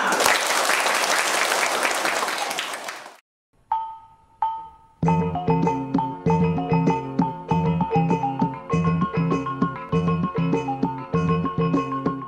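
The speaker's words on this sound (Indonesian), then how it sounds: "Tepuk tangan buat kita semua." Applause from a group at a community gathering for an earthquake and tsunami response program bursts loudly for about three seconds, then gives way to chimes and a rhythmic, repeating musical jingle.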